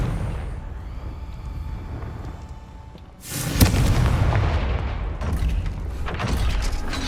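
A Confringo blasting curse goes off in a video game: after three seconds of low rumbling ambience, a sudden loud burst erupts and rolls on as a sustained, roaring blast with crackling debris.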